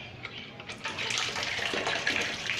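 Hot water drains out of a distillation pot used for making fennel distillate, a steady hissing, gushing flow that swells after the first second and runs on close by.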